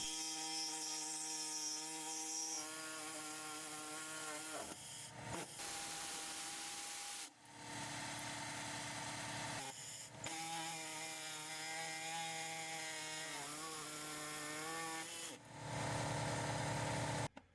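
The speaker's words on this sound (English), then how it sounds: "Make a cut on either side of the carrier frame." Power saw cutting through the driveshaft carrier frame on a Mercedes-Benz SL500, a loud continuous grinding whine that runs in long bursts, broken by short pauses between passes.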